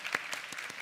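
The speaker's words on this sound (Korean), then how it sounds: "우리 수고하신 모든 분들께 박수 한번 하겠습니다" A church youth-service congregation claps briefly in a short, soft burst, with a few scattered hand claps standing out over a steady patter.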